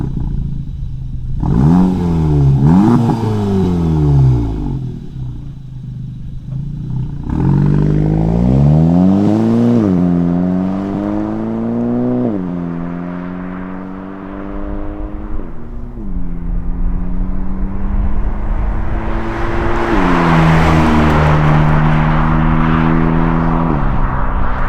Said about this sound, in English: Let's get out on the highway, see what it sounds like. Like always, mellow acceleration out onto the highway.